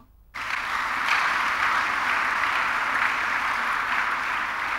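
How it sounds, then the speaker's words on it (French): Church congregation applauding during a worship service, a dense, steady wash of clapping that starts abruptly after a brief quiet moment and carries on loudly without a break. "Acclamons la parole."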